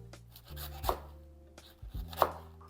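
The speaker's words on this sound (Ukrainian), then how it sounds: "Основою салату в нас буде капуста. Розрізаємо її навпіл і шинкуємо її." A knife shreds a halved cabbage for salad on a board in a few quick, close strokes, with two sharper cuts standing out.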